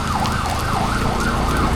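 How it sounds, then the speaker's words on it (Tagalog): A wailing ambulance siren rises and falls in steady cycles at night over a constant low rumble of heavy rain. "Ambulansya pa oh. May emergency yata."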